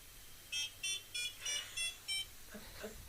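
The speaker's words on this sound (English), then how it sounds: "Both alarms are going off at once." Ghost hunting equipment alarms give six short, evenly spaced electronic beeps in a quick regular rhythm, faint and alone in a quiet room, followed by a few soft muffled sounds.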